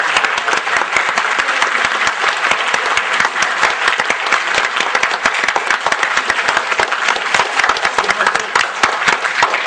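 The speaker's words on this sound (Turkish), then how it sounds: "alkışlarınızı alıyorum" Loud, dense applause fills a hall at a Quran course's forty-hadith recitation competition, a continuous wash of many hands clapping without a break for several seconds.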